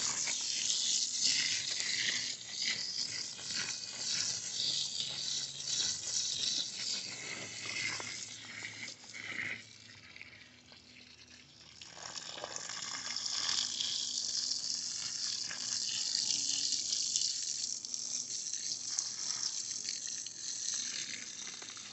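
Water spread over garden beds being prepared for strawberries makes a continuous splashing, hissing wash across the soil, steady and close, easing briefly in the middle before picking up again.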